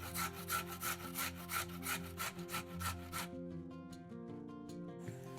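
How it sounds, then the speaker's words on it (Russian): One carrot rubbed against a coarse grater, quick rasping strokes repeating in a steady back-and-forth rhythm, close and soft, stopping after about three seconds, with a quiet musical bed underneath. "Одну морковь трем на крупной терке."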